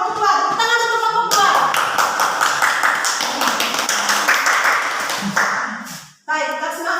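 A classroom of students claps for a group about to present its project, a brisk burst of hand claps that fills most of the moment, with talk just before and after.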